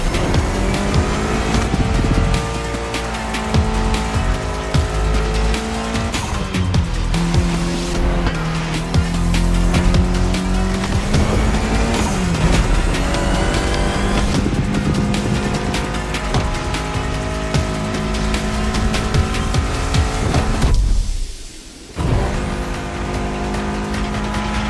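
Race cars roaring through a street race in The Crew Motorfest, Japan setting, engines droning loud and continuous with rising revs and tire squeal, briefly dropping out near the end before resuming.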